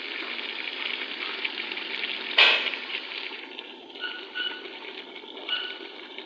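Potatoes and vegetables fry in a pan with a steady, close hiss and crackle that runs throughout, marked by one sharper burst of sizzle partway through and a few softer spits near the end.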